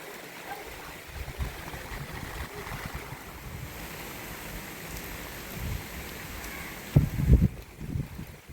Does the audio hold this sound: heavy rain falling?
yes